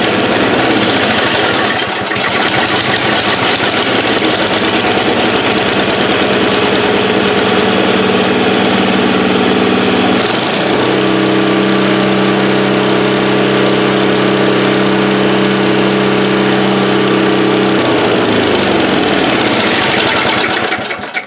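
Small engine running after its carburetor was replaced, starting with a steady loud roar that settles into an even idle with a faint knock, close up with no talking.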